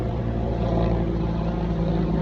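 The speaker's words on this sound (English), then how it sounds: "Yes, there's a helicopter going by." A helicopter passes overhead, its steady rotor and engine drone filling the clip at a constant, fairly loud level with no break.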